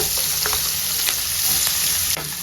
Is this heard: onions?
yes